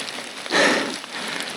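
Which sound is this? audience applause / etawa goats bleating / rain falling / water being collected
rain falling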